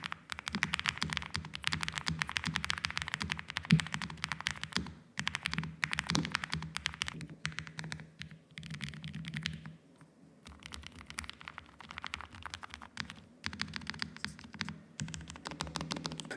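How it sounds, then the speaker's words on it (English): Steady, close-up typing on a low-profile mechanical keyboard without a gasket mount: dense runs of crisp key clacks with brief pauses, a short lull midway, then quick bursts resuming, with no talking. "Let's check out the typing."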